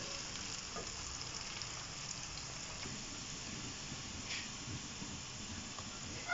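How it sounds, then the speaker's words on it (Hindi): A steady, soft sizzle of onions frying in hot ghee until light golden, continuous crackling and hiss close by, with no talking. "प्याज को मैं लाइट गोल्डन होने तक फ्राई करूँगी।"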